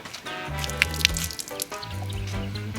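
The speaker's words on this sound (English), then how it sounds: "once you're finished using this, you unscrew this, you can pour out the water" Water poured out of an unscrewed container used for a pellet dry-spot treatment, a close gurgling, dripping stream with splashy trickles and pulses, steady throughout with no talk.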